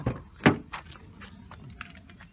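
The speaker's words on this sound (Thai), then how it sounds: "เปิดประตูเปิดไม่ได้เลยเปิดข้างหลัง" A car's rear door is handled and opened after a crash that left the front door jammed: a sharp latch clunk, then lighter rattles and clicks of the door mechanism, close by and without talk.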